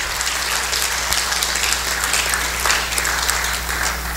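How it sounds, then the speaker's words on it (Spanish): A church congregation applauds in praise, a dense continuous clapping over a low steady hum. "Denle un aplauso al Señor por ello, hermano."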